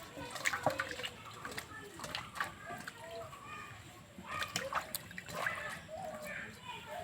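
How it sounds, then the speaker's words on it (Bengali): A tomato is rinsed under running water in a home kitchen, with a steady trickle and splash that swells in small bursts, and a voice speaks over it. "প্রথমে টমেটোটা ধুয়ে নেব।"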